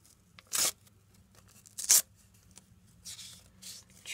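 A paper packet of cupcake surprises is torn open by hand: two sharp, close ripping bursts, followed by softer crinkling and rustling of the paper, with no talking.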